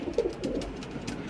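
Fancy pigeons at a pigeon farm, a soft low coo near the start over a dull, busy background, close but faint.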